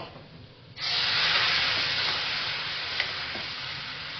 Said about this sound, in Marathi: साधारणतः अर्धा ग्लास पाणी मी इथे टाकत आहे.